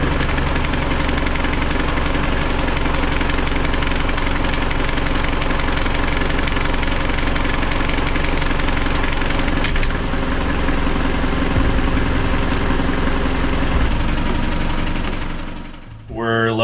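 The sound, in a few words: car engine struggling to start, then clunking into gear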